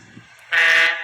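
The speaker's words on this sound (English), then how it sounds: "The van shuddered and screeched as it was pushed along the line" A loud, shrill metallic screech starts abruptly after a quieter rumble, holding steady and close before easing off slightly, as a train brake van is pushed along the rails.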